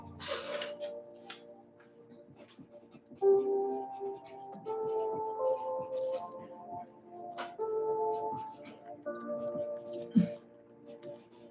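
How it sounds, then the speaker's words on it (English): A pen scratches across a piece of paper in short irregular strokes, quiet and close, with faint room hum and occasional small rustles, no talking. "writing my intention for today down on this piece of paper"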